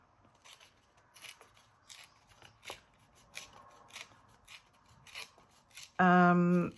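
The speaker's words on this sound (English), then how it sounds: "we will rip our paper" Cardstock paper is torn by hand in a series of short, close, rasping rips at a steady pace, ending with a sudden loud tonal burst.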